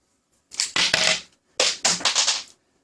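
A tube cutter working around a blaster barrel tube gives two bursts of crunching, rasping scrapes, each about a second long, close and fairly loud, with no talk.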